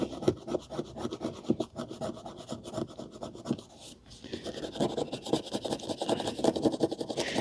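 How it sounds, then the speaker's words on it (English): A fingernail scrapes dried splatter off the cover of a vintage Penguin paperback, a close, continuous raspy scratching with rapid repeated strokes and a brief pause midway. "It just needs your fingertip, the tip of your fingernail rather, just to scrape it off."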